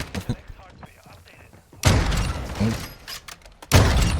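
Sniper rifle shots in a first-person shooter game, with two loud bursts of gunfire cutting in sharply after quieter background game noise and faint talk.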